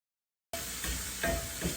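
Sausage fries in a pan with a quiet, crackling sizzle that starts abruptly after a moment of silence, with a few soft spatters and pops.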